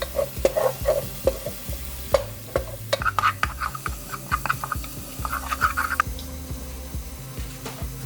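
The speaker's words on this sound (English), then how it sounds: "Now you just pour the garlic in, mix it all up" Onion and garlic fry in a pan for aji de gallina, a steady sizzle broken by repeated scraping taps as a utensil stirs and knocks against the pan.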